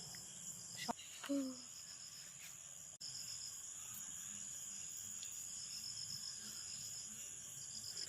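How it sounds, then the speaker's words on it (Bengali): Crickets chirp at night in a garden, a continuous high, faint trill under quiet background, with a brief voice and a few small knocks early on. "ঝিঝি পোকা ডাকে রে"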